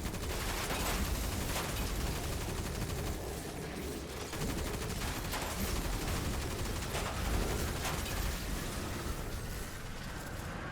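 Sustained gunfire at distant snipers in Destiny 2, a dense stream of shots layered over a constant loud roar of game ambience, with occasional sharper cracks standing out.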